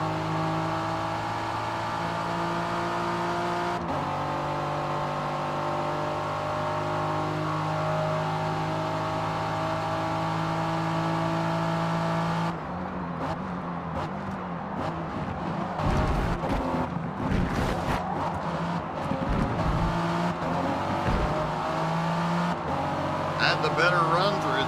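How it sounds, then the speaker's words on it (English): A Ferrari 488 in the Forza racing game: high-pitched engine drone holding steady, then rising and falling through gear changes and revs, with someone talking over it. "it's a Ferrari. I think it's a 488"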